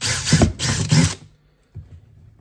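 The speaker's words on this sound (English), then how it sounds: "we are going to drill the hole now" A handheld power drill with a 3/16 bit whirs in three short bursts, then stops, followed by a brief, faint mechanical rattle, all close by with no talking.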